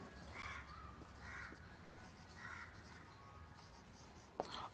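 A pen or marker scratches out an example sentence on a board during a Hindi-language English grammar lesson, soft repeated strokes in a few short bursts over steady room noise, ending with a tap.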